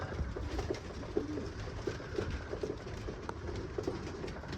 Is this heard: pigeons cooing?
yes